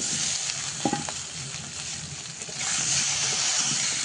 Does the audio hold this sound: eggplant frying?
yes